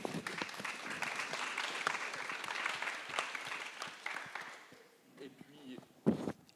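Applause at a small economics conference, clapping for the volunteer organisers, moderately faint and mixed with crowd murmur and some talk, thinning out toward the end with a brief burst of claps.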